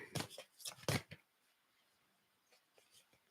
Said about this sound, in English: It's making me do a good shuffle.